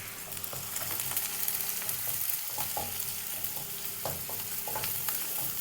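Finely chopped medium onion and curry leaves sautéing in a pan for Kerala-style rava upma, a continuous close sizzle broken by intermittent stirring scrapes and light utensil taps.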